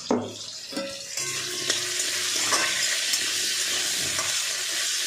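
Food sizzling in a pan in a dark home dining area and kitchen, a continuous close hiss with a few stirring clinks near the start and no voices.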